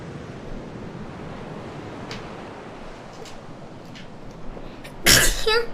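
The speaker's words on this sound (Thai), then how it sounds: "ออนุญาตจามก่อนนะฮะก่อนเริ่มต้นเลย" A single sharp, loud human sneeze near the end, following several seconds of steady hiss from a Little Nightmares 2 gameplay session with faint clicks in the background.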